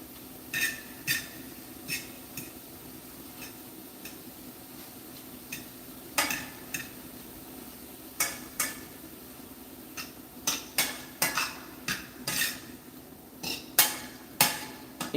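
Shrimp sautéing in a pan: a steady low sizzle with scattered sharp metallic clinks and taps from a utensil against the pan, irregularly spaced, close and fairly quiet, with no talking.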